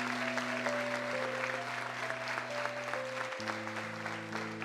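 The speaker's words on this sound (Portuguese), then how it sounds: "Aplauda ao Senhor." A church congregation claps steadily and fairly softly over sustained organ or keyboard chords that shift partway through, with no voice on top.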